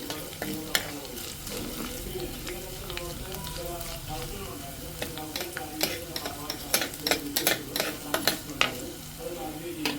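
Ginger fries in hot oil for a fish curry, a steady close sizzle with stirring scrapes and clicks that grow busier toward the end, while a person talks over it.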